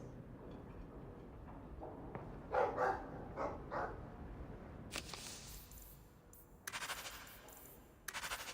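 A dog in the video game Dragon Age 2 barks in a short run of rough woofs amid game combat noise and sharp impacts, moderately close but fairly quiet overall.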